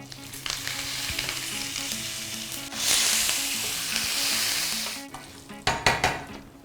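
Curry leaves hit hot oil already holding mustard seeds, nigella and fennel, giving a loud, close sizzle that flares sharply near the three-second mark, with stirring clatter and several sharp spoon knocks near the end.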